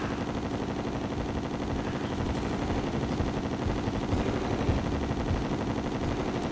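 Rapid repeated gunfire from a gun in the video game Terraria during a boss fight against the Moon Lord, a quiet steady stream of shots over a constant game soundtrack.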